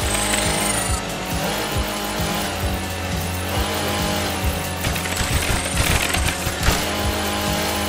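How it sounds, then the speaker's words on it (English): A snowmobile in the game Pepper Grinder drones with a rough, buzzing engine, joined by irregular thumps and crunches as it plows along. "you get to take one of these snowmobiles off some sick jumps and plow through some enemies"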